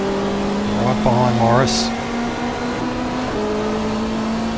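BMW touring race car in the GTR2 racing game, 1995 Australian Super Touring Championship at the Gold Coast Indy circuit: a steady high engine drone with a brief pitch-shifting rev as the car shifts gears, under a commentator's voice.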